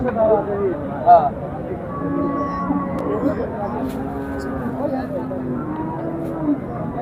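Australian dairy cows at a cattle market in Shahjadpur, Sirajganj, let out several long, low moos in a row, moderately loud amid a busy background hum.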